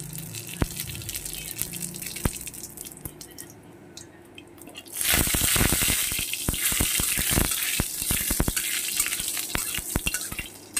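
Radhuni seeds tempering in hot oil for a helencha greens and morola fish dish set off a sudden loud, close sizzle about halfway through, crackling and spitting steadily after quieter kitchen clinks and drips.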